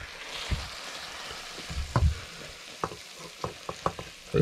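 Beef stew mixture tipped into a saucepan and stirred, giving a few short scraping and splattering bursts with light sizzling, fairly quiet with gaps between strokes.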